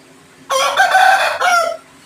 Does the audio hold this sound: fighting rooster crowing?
yes